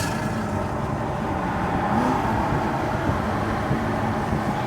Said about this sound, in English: Shout out to Armytrix because this exhaust is savage as well.